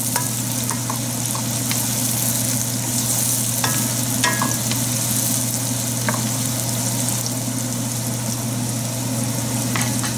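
Onions fry in oil for prawn balchao, giving a steady, dense sizzle with faint stirring clicks and scrapes throughout, close and continuous with no talking.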